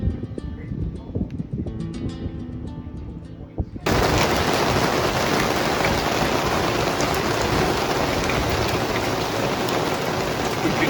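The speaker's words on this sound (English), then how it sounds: "We've been waiting months for rain" Heavy rain pours down in Quesada, starting abruptly as a loud, dense hiss of drops on surfaces after a few seconds of quieter ambience, then continuing steadily.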